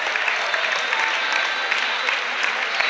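Spectators at a Serie A handball match between Romagna and Rubiera applaud steadily, a dense wash of clapping with scattered sharper claps, heard from within the arena for a few seconds.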